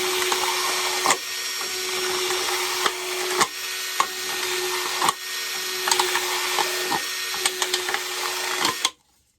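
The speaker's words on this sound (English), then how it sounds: "put 3 or 4 cups together and just drill" A power drill whines steadily as it bores through the bottoms of three or four stacked plastic cups, with sharp cracks and clicks breaking in at intervals before the motor cuts off.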